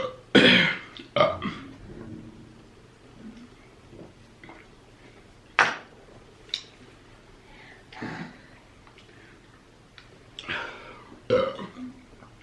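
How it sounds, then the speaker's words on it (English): Several loud, close burps from a person after eating a seafood boil, spaced irregularly across the span with quiet pauses between them, no talking. "Let me get some burps in for y'all."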